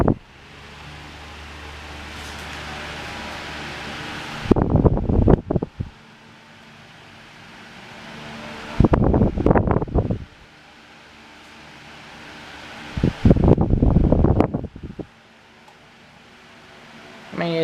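A 12-inch Climate Keeper table fan, a 2021 remake, runs on high speed with a steady airy whoosh, broken several times by bursts of loud close rumbling and handling noise.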